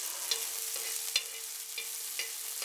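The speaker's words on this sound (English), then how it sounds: "I'm just sauteing the green chilies" Green chillies sautéing in a pan, a steady, quiet sizzle broken by a few sharp clicks of the spatula, with no voices.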